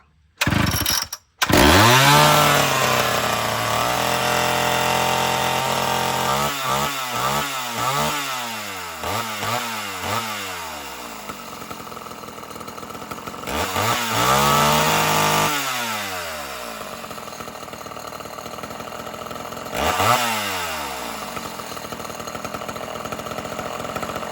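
A chainsaw engine sputters on a pull, catches, then revs up and down repeatedly in loud bursts, running close by with no talking.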